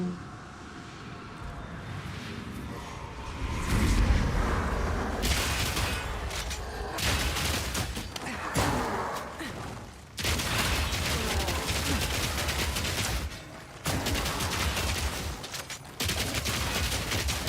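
Grenades launched and exploding in the action RPG Path of Exile 2, a dense, continuous barrage of loud blasts and rapid bursts layered over game noise, with a sharp burst near four seconds.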